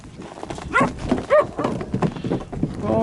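Puppies on a goat farm giving a few short, close yips and barks, brief and scattered over a low background.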